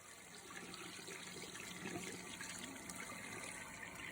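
A tap runs steadily into a sink for washing, a continuous, even hiss of flowing water heard alone at a fairly quiet level.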